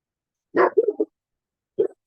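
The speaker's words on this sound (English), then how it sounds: "Sorry for the barking." A doodle puppy indoors barks at people walking by: a quick burst of three close, sharp barks, a pause, then one more short bark.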